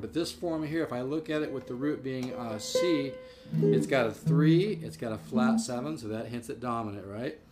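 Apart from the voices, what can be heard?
No everyday noise stands out behind the speech.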